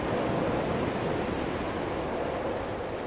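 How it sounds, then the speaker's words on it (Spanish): Sea waves wash continuously along the shore in the video game Dear Esther, a steady broadband surf hiss that stays even and fairly loud throughout, with no voices. "Y volvemos a escuchar el sonido del mar."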